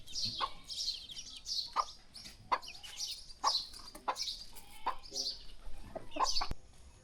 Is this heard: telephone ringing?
no